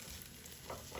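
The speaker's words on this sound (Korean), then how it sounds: "지글지글 소리가 나면" Stir-fried boneless chicken feet with vegetables and rice sizzling in a hot pan, a steady close crackling hiss with soft stirring scrapes, no voices.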